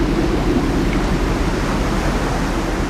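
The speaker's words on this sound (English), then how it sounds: "As this rushing torrent of water flows back out again, it scours a deep channel in the sand." Ocean water rushing back out from a sandy beach, a steady, loud, broadband wash with no breaks, continuous and unbroken with no voices.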